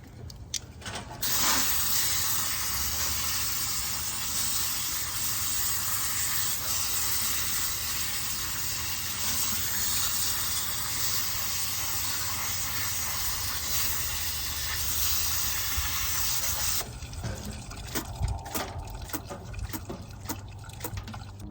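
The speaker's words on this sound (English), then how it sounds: "having a high-powered hose really helps with this" A high-powered hose blasts water onto a green loofa in a loud, steady, close hiss that runs unbroken for most of the time, then gives way to uneven spattering and splashing near the end.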